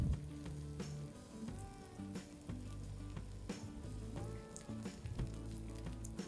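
Onions with ginger-garlic paste frying in a pan, a steady close sizzle with occasional stirring clinks and scrapes, no voices.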